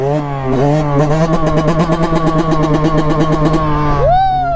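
A nearby Yamaha YZ125 two-stroke dirt bike engine revs up and holds a high, raspy buzz with rapid pulsing, then the pitch swoops as the throttle changes.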